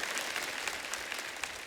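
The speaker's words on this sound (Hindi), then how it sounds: "आप सबकी जोरदार तालियों से प्लीज वेलकम" Studio audience applause greeting a guest onto the stage of a live comedy talk show, a dense steady wash of many hands clapping at once with no voices over it.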